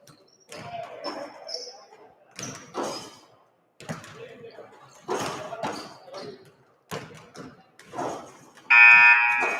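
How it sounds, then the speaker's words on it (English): A scoreboard buzzer sounds loudly near the end at a boys varsity high school basketball game in a gym, following stretches of talk and crowd noise. "And there's the buzzer."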